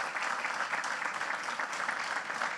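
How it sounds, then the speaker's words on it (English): Audience applause at the groundbreaking ceremony for the One Congress office tower, steady and dense for the whole stretch, moderately distant and even in level with no speech over it. "Another round of applause for State Street for their"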